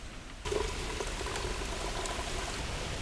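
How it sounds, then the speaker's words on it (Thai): Plain water pours in a steady, close, rushing stream into a rice bran and sugar ferment mixture, starting abruptly after a brief quieter moment and continuing throughout. "ต่อมาเขาก็เติมน้ำเปล่านะครับจำนวนหาลิตรนะครับ"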